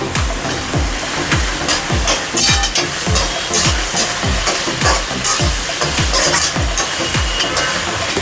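Two finely chopped potatoes fry loudly in a pan, a continuous close sizzle broken by a regular rhythm of stirring scrapes about twice a second.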